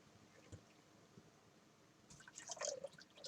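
Red liquid from a mashed potato mixture strains through a strainer in a kitchen, a few soft drips at first, then a brighter, busier trickle and patter building toward the end.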